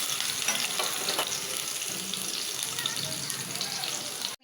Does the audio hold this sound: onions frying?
yes